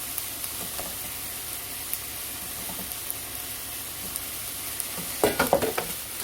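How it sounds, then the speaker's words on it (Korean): Onions stir-frying in a pan for curry rice, a steady quiet sizzle with a few faint spatula scrapes, then a short burst of louder stirring clatter near the end; no talking. "양파를 한 개 반 정도 넣어서 자, 이거 볶아줄 겁니다."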